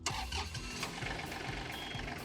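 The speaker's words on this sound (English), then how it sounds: "go ahead and start up the tractor" A John Deere 220R loader tractor's engine cranks and catches, then settles into a steady mid-pitched running rumble, heard up close with no talk over it.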